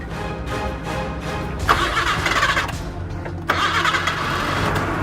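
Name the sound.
car engine starting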